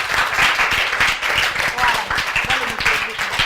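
A church crowd at a Christian gathering breaks into dense, loud applause, many hands clapping close by for the whole stretch, with voices mixed into the clapping.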